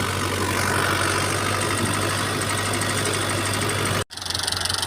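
Tractor engine running steadily while leveling a field before fertilizing and chickpea planting, a loud continuous drone with constant rumble that cuts out abruptly near the end and then resumes.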